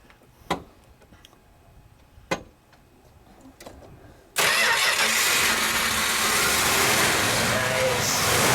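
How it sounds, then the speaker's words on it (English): A 1964 Chrysler Imperial Crown Coupe engine starts after a few sharp clicks in a quiet space, then catches abruptly into a loud, steady running roar. "Joe, let's start it up. Let's hear what it sounds like."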